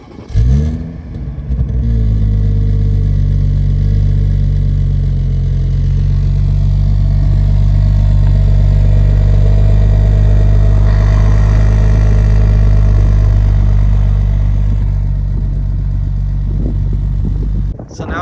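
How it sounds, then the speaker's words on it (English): A 2021 Toyota Supra 3.0 with a tuned 800 hp B58 engine cranks and catches, then holds a loud, steady roar close by, with a slight rise in revs partway through. "So now we're going to be firing up the Supra and see how she sounds."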